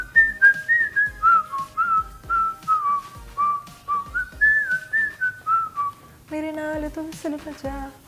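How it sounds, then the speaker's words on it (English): A person whistles a melodic tune, a run of clear pitched notes rising and falling close by, with a few lower tones near the end. "Could you whistle some for us?"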